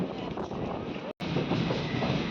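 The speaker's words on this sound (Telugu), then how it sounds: "గిద్దలూరు స్టేషన్ నుంచి అయితే మన ట్రైన్ అయితే స్టార్ట్ అయింది" Rumbling rattle of the Dhone–Guntur Express passenger train running on rails after leaving Giddalur station, heard from inside, with a brief dropout in the middle.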